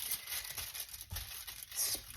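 Nonstick-sprayed tin foil crinkles and rustles under stromboli dough as it is spread out, a faint, continuous papery crackle with soft irregular pulses and no voices.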